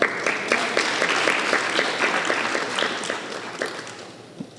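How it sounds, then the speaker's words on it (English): Audience applause at a Sunday feast gathering, a steady wash of clapping from many hands with a few sharper claps standing out, gradually thinning toward the end. "Another round of applause, please"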